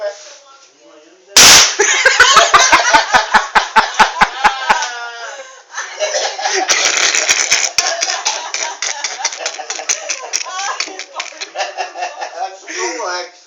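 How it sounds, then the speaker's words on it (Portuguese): Firecracker hidden inside a cigarette goes off with a sudden loud bang, followed by laughter and excited voices talking over a crackling, popping aftermath. "É a bombinha no cigarro."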